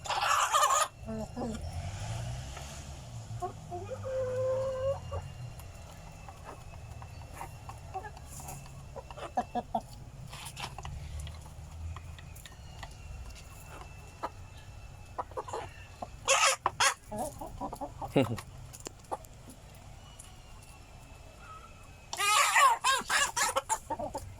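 Rhode Island chickens cluck while feeding on mixed feed, a steady flock murmur with sharper, louder bursts of squawking now and then, including a loud flurry near the end.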